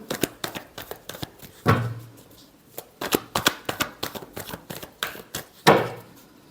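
Tarot cards being shuffled by hand in a reading, a run of quick papery riffles and taps with two louder bursts, close and fairly quiet, with a voice talking softly now and then.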